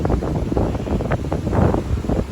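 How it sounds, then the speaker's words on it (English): Strong, steady wind buffeting the microphone in gusts on the jogging track of the cruise ship Oasis of the Seas at sea, a low roaring rush with no voices. "So it is a bit windy. We are at sea right now."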